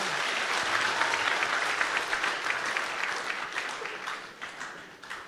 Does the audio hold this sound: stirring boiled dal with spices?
no